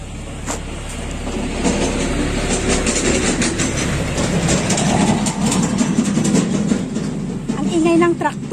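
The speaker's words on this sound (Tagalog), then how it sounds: "Ang ingay ng traktor na dumadaan, minsan nagigising siya." A tractor passes by in a rural Nepal setting, a loud sustained engine rumble with rattling and clatter that rises and falls, with brief voices.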